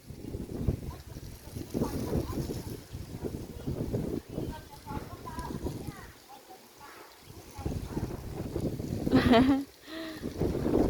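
Wind gusts and buffets the microphone while out on the water in a boat, rising and falling in strength, with people talking over it much of the time.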